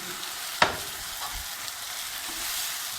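Peppers and tomatoes dropped into a pan with sautéed chicken and mushrooms, giving a sharp hit and a steady low sizzle that continues faintly throughout, with no talk.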